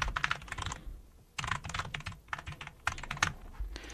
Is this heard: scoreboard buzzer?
no